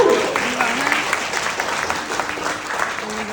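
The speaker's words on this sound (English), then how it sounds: "can I get an applause for Aurelio over here too" An audience claps together in a burst of applause at a UFW movement gathering, steady and fairly close, with voices briefly heard over the clapping.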